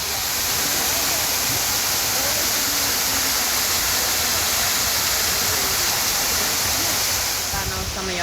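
A garden waterfall in a Japanese garden pours in a steady, dense broadband rush, close and continuous throughout with no break or change in level.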